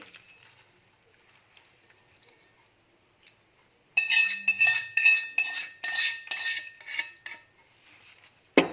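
A spoon stirs cooled tempering with asafoetida into a spicy ambadi (sorrel leaf) pickle, making a burst of close, rhythmic clinks and scrapes after a quiet start.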